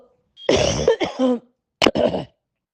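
Several harsh coughs in two quick bursts, close and clear, with short silences between them.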